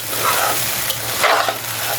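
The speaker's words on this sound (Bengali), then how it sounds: "আর এই যে চালটা ভাজা হলে তো শন একটা আওয়াজ আছে।" Rice sizzles and crackles as it fries in a pan while white pulao is being made, a steady close hiss with brief bursts of louder crackling.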